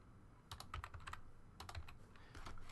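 Typing on a computer keyboard in a quiet room produces a couple of quick bursts of close, crisp key clicks separated by a short pause.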